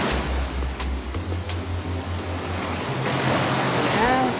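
Rushing tsunami waves roll through the Escape Tsunami video game, a steady loud wash of surf-like noise with low rumbling throughout and a brief synthetic tone near the end.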